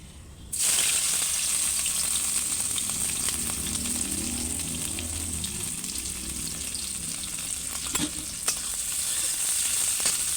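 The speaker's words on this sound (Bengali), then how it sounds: "তো একটু পেঁয়াজটা একটু ভাজা হোক।" Onions dropped into hot oil with black cumin seeds, a loud sudden sizzle that settles into a steady close crackling fry with occasional stirring clicks.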